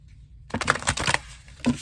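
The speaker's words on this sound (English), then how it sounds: "I'm going to give them a quick shuffle." Oracle cards from the Believe Your Own Magic deck being shuffled by hand, a quick burst of close, papery riffling and flicking after a brief quiet start.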